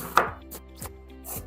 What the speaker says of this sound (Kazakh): Мен кубиктап турағанды жақсы көремін.